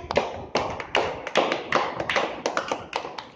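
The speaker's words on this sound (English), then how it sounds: "Clap for her." A class of children clapping for a classmate, a scattered run of uneven claps and taps that stays fairly loud and close, with no talking over it.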